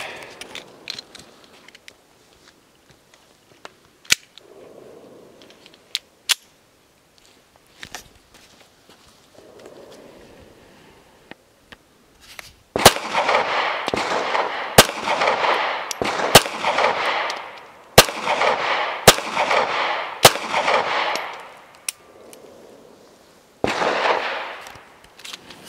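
Several sharp shots from a Taurus Spectrum pistol firing Sig Sauer ammunition ring out one at a time at uneven intervals, loud and close. Between and under them comes steady outdoor noise and some rustling.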